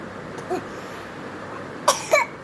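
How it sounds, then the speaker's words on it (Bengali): Two short coughs against quiet room tone, a faint one early and a sharper double cough near the end. "কাশি"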